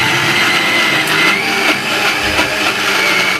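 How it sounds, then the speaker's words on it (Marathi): A mixer grinder whirs loudly and continuously as it grinds soaked moong and urad dal into batter for dahi vada, a close, steady motor drone with slight grinding fluctuations. "आणि मिक्स करून झाली की ती मिक्सरला लावायची आहे"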